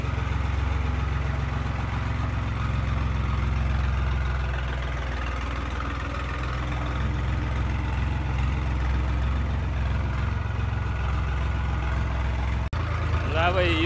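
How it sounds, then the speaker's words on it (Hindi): A heavy diesel engine of a New Holland 3630 tractor idles and chugs steadily nearby, a deep continuous rumble that runs throughout without pause. "ट्रैक्टर स्टार्ट कर लिया मैंने और चल रहा है"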